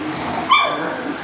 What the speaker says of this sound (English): Are you barking?